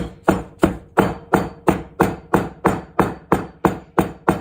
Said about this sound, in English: we're going to take our hammer and go like this